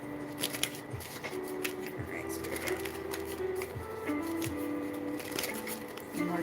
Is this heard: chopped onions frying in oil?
no